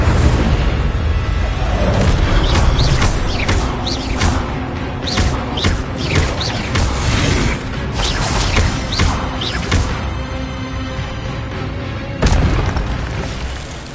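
A fire spell cast in the video game Hogwarts Legacy, heard as loud whooshing bursts and crackling booms that rise and fall over several seconds, ending with one last sharp flare.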